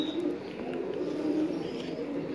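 A flock of pigeons coos continuously on a Lahore rooftop loft, low rolling calls overlapping close at hand with a faint chirp now and then.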